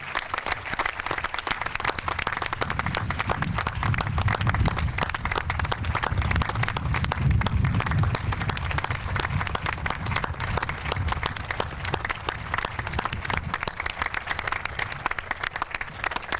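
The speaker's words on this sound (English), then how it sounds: "How about a round of applause?" A crowd gives a standing ovation at a site ceremony: sustained, dense applause from many people that rolls on steadily for a long stretch, with a low rumble of movement beneath it.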